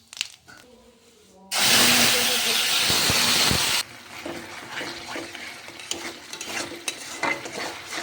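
Whole cumin seeds and a bay leaf drop into hot oil in a pan, setting off a loud, sudden burst of sizzling that holds for about two seconds, then settles into a quieter crackle with faint clinks.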